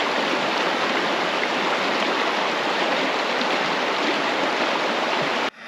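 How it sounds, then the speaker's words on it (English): Steady rushing of a river flowing past a snowy winter campsite, a dense continuous wash of water noise close by that holds unchanged before cutting off at the very end. "Oh man, river water going by."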